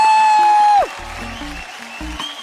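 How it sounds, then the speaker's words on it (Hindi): A sustained tone fades out, then audience clapping follows at a talent show grand finale, brisk and moderately loud, mixed with a few low thumps. "जोरदार तालियां."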